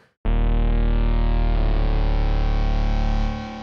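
A single sustained synth bass tone buzzes loudly, starting muffled and growing brighter as the filter gradually opens, then fading slightly at the end.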